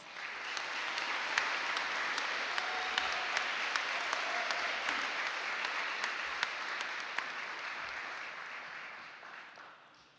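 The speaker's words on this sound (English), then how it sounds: "Let's give them a round of applause." An audience at a high school National Honor Society induction ceremony applauds steadily for about ten seconds, dense clapping that holds even and fades slightly at the end.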